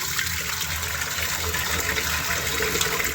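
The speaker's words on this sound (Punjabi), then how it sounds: "ਹੁਣ ਥੋੜਾ ਜਿਹਾ ਅਸੀਂ ਪਾਣੀ ਪਾ ਲਾਂਗੇ" Water pours steadily into a pressure cooker holding mustard greens for saag, a close, continuous splashing trickle lasting a few seconds without pause.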